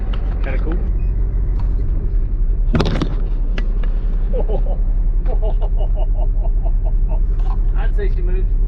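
Diesel RV with a Cummins 12-valve engine and Allison automatic transmission driving, a steady loud low engine rumble throughout with rattles and a sharp clunk partway, and people talking over it.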